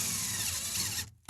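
A power drill drives a screw into the wall of a homemade camper, a steady close whirring grind lasting about a second before it stops abruptly.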